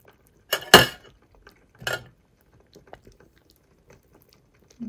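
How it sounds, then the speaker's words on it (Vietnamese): Utensils clink against a pot while beef shank is lifted out of a pot of beef pho broth: two sharp metallic knocks close by, then faint scattered taps and scrapes in a quiet kitchen. "Bây giờ mình sẽ vớt cái bắp bò ra để nguội rồi mình sẽ xắt."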